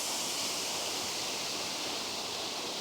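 A waterfall roars in a steady, dense hiss of falling water and spray, constant and full throughout, heard from close by with no other sounds.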